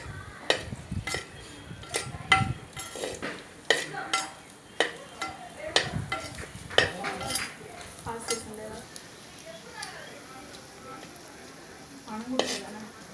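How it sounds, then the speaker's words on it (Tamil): Onions sauté in a pan while a spoon stirs and scrapes repeatedly, with irregular clattering strokes over a low sizzle, close and fairly loud throughout. "பொன் வறுவலா வெங்காயம் ஆகணும். அது வரைக்கும் நம்ம போட்டு வதக்கலாம்."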